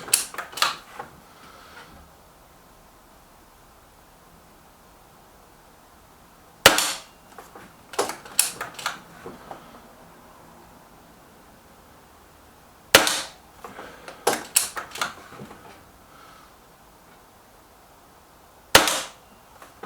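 A BSA TS Ultra air rifle fired during a target test: four sharp snapping shots spaced several seconds apart, each followed by a cluster of metallic clicks and handling noises as the gun is cycled.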